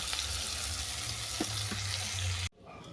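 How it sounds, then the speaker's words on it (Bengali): Bitter gourd (karela) sizzles in a frying pan with a steady close hiss and occasional stirring scrapes, cutting off abruptly near the end. "করলা ভাজাটা থাক, কারণ এটা ভাজতে সময় লাগবে"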